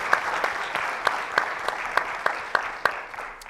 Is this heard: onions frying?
no